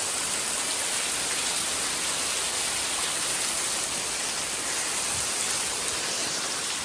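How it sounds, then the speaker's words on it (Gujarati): Heavy rain pours down over a village farm in a loud, unbroken hiss and roar, dense and constant from start to finish with no talk. "એટલો ધડબડાટી બોલાવે છે વરસાદ"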